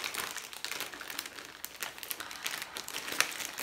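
Crinkly plastic bag packaging around a beauty roller for face and body rustles and crackles continuously as it is opened, close and fairly loud, with sharp irregular crackles throughout.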